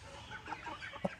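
Young roosters clucking in a flock, soft scattered clucks and short calls at close range, ending with one louder sharp cluck, with no voices.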